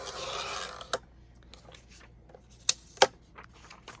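A sheet of vellum paper being cut in half, a soft rasping slice at the start followed by a few sharp, close snips and clicks of the cutting tool, no talking.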